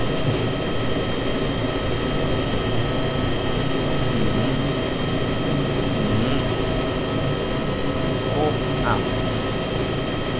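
Helicopter touching down in the DayZ video game, a steady, loud rotor and engine drone running through the whole stretch while people talk over it.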